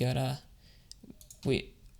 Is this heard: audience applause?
no